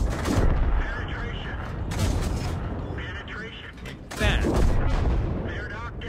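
Heavy tank guns firing shots in a video game battle, two booming reports several seconds apart amid mechanical rumble, with people talking over them.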